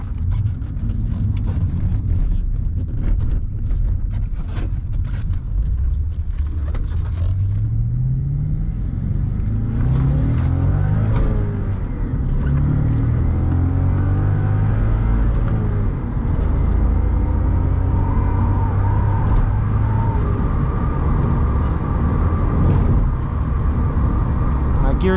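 A 2010 Audi S5 with a six-speed manual gearbox drives along, its engine rumbling steadily up close with rising and falling pitch through the gears, under continuous road and wind noise, while a person talks over it.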